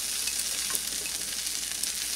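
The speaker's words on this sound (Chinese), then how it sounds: "然后我把肉倒下去，来看一下这个肉像是油炸过的" Diced chicken fries in a little oil with doubanjiang for Sichuan laziji, giving a close, steady crackling sizzle with no voices.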